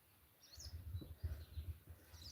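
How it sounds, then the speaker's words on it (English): Small birds chirp faintly in a village setting, giving a few scattered high tweets over a low background rumble. "birds are chirping."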